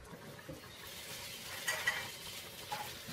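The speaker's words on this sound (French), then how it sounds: "vérifiez votre curry de temps en temps, mélangez bien." A spoon softly scraping and stirring beef curry in a pot, with faint bubbling and light clinks of utensil against metal, quiet and close.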